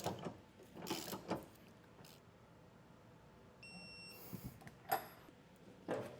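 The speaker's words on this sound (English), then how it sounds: "Now I'm going to use a 15/16 wrench and socket to get these snugged up with." A 15/16 wrench and socket snug hitch receiver bolts on a 2021 Audi Q3, faint ratcheting clicks and metallic mechanism bursts separated by pauses, with a brief high beep partway through.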